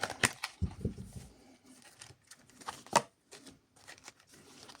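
Quick riffling bursts of playing cards being shuffled, with crisp flutters and taps, close and fairly quiet, with pauses between.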